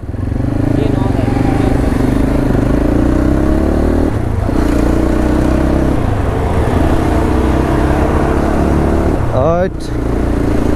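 A dirt bike with a slightly loose chain roars loudly and continuously while riding, with a rev near the end and voices mixed into the noise.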